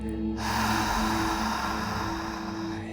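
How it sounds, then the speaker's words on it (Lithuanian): One long, slow exhalation by a person during a guided breathing practice, a soft airy breath that sustains for a couple of seconds over a steady ambient musical drone. "Ir dabar iškvėpk."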